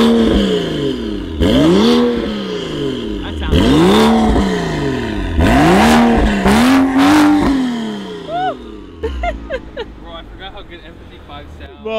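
A BMW M4 CS fitted with a Corsa axleback exhaust revs repeatedly up close, four loud rising blips that fall back between pulls, then settles into a crackling, popping idle.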